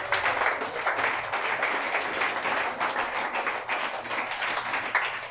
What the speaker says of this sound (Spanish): Denle aplauso al Rey.